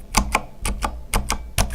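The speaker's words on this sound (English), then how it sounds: "more or less any key has spring noise" Keys on a Corsair Strafe keyboard with Cherry switches clack in six sharp, evenly spaced strokes, each carrying a faint springy ring, close and alone with no talking.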